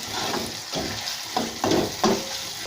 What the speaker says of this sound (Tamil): இந்த இஞ்சி பூண்டு வெங்காயமும் நல்லா ஒன்று சேர்ந்து மிக்ஸ் ஆகிற மாதிரி நல்லா ஃப்ரை பண்ணிவிட்டு